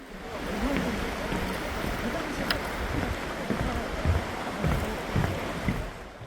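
Steady rushing and babbling of a flowing stream in a volcanic rock gorge in South Korea fills the clip, constant and fairly close, with faint wind and no voices.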